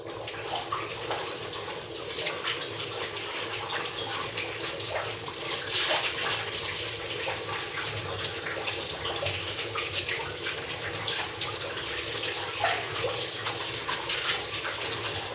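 Tap water runs steadily while hands are washed at a home sink, a continuous splashing hiss that stays close and fairly loud throughout, with small bursts of clatter mixed in.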